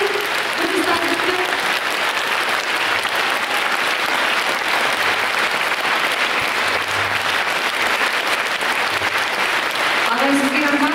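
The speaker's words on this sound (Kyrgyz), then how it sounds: "баарыңыздарды кол чабып коюңуздарды сурап элем" Sustained applause from an audience filling a hall, dense and steady for the whole stretch, rising slightly toward the end, with faint voices mixed underneath.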